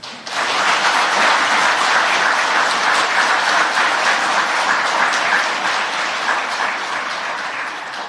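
A large crowd applauds steadily and loudly for several seconds at a Parents' Day ceremony, the clapping fading slightly toward the end.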